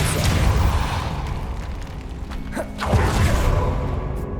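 A Depulso spell cast in Hogwarts Legacy bursts out as a loud whooshing blast, followed by a second booming swell over a dense rumbling game background.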